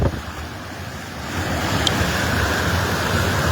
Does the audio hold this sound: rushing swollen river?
yes